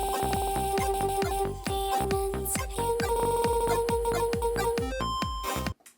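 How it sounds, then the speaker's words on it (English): A thumping music track chops into rapid, repeated stuttering slices from an Ableton Beat Repeat effect with a steady pulsing beat, then cuts off abruptly near the end. "Lastly, I've got this stutter effect,"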